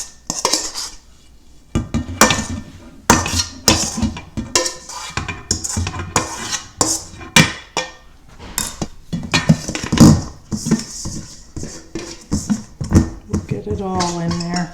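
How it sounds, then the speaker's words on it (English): Metal spoon scraping and clinking against a glass jar while pressing down shredded fermenting cabbage for sauerkraut, a series of sharp irregular clinks and squelches, with a person briefly speaking. "when I press down with the spoon that the liquid rises"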